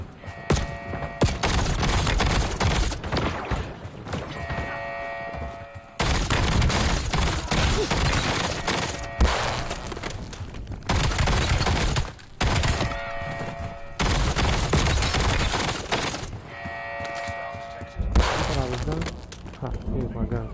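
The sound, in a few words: minigun firing in Call of Duty Black Ops 7 video game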